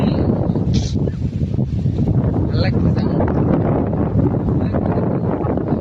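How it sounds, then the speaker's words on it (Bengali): Strong wind blows across an open field beside paddy fields, buffeting the microphone with loud, continuous low rumbling, while a person talks over it. "মাঠে প্রচুর হাওয়া বন্ধুরা, উড়ে যাবো একদম।"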